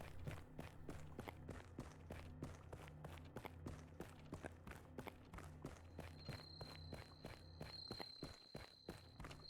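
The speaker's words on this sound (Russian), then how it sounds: "Я слышу ее шаги за спиной." Heeled footsteps in the horror video game Akai Onna, a steady, evenly spaced run of sharp clicks walking close behind over a low hum, with no talk.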